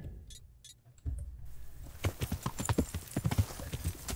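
Horse hooves clip-clop steadily at riding pace in the medieval video game Kingdom Come: Deliverance, loud and close after a short quieter opening, with faint whinny-like sounds mixed in.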